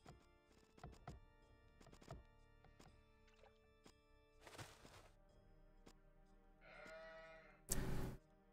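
Sheep bleat several times in a real-time strategy game played on a small island map, short cries scattered among soft thunks and clicks of game sounds, with one louder burst near the end and no voices.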